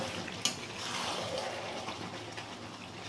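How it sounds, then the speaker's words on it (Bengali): Meat and chopped young jackfruit are sautéed in a pan with a soft, steady sizzle and occasional stirring scrapes, fairly quiet and close, with no talking. "মাংসটা দিয়ে কষিয়ে নেব, আর এঁচোড়টাও আমি দিয়ে দিলাম। এবার আমি এটা ভালো করে কষিয়ে নেব।"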